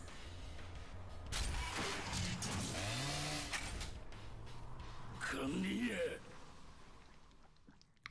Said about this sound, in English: So now they just reused the chainsaw sound for his arm.